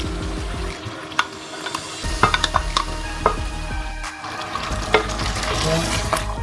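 Mutton already fried with spices is stirred with yogurt in a pan, giving a steady sizzle and scraping utensil strokes with occasional sharp clinks against the pan, close and continuous.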